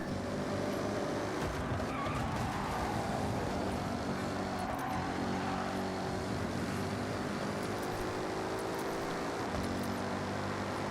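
A muscle car driving in the Forza Horizon racing game, a dense, continuous engine roar with tyre and road rumble running loud and unbroken throughout.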